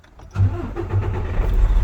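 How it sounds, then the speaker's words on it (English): Truck engine cranking and catching, a loud close start that settles into a steady low rumble at idle. "So turn the truck on"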